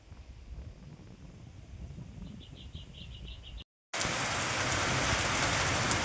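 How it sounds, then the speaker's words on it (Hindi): Sudden rain pours down on a farm field where goats were grazing. It hisses steadily and close at first, then cuts out briefly and returns much louder and denser, with faint bird chirps in the middle. "एकदम से जो है बारिश हो गई, हम पूरे भीग चुके हैं"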